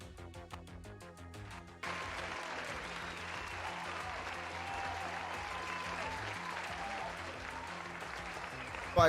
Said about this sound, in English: So let's go ahead and give a huge applause for Firestorm.